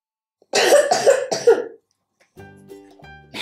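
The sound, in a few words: coughing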